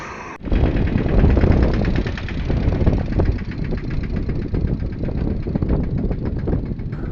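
A tractor engine starts and idles close by, a loud, steady diesel chugging with a rapid, even knocking rhythm throughout.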